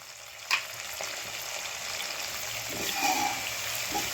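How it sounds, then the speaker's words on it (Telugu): Onions and green chillies fry in plenty of oil in a pan with turmeric added, giving a steady, even sizzling hiss throughout, with a brief clink near the start and some soft stirring toward the end. "సో ఇది ఒక్కసారి వేగిపోవాలండి. వేగేటప్పుడు మనం పసుపు వేసేసుకుందాం."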